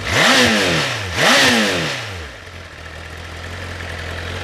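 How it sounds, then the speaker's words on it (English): A Honda motorcycle engine revs sharply twice in quick succession, loud and close, then drops back to a steady idle. "the engine does sound really aggressive"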